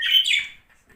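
Pet budgerigars chirp in a short, bright burst of twittering up close, fading quickly into near silence with one faint extra peep at the end.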